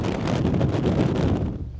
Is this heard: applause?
no